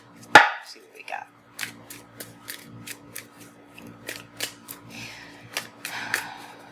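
Tarot cards being shuffled give a series of crisp, snappy flicks and riffles at an irregular rhythm, close and fairly loud in a quiet room, with a sharp louder snap near the start.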